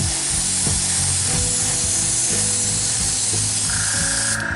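An airbrush sprays black base coat onto a Terminator miniature with a steady, loud, close hiss that runs unbroken, over a low mechanical hum.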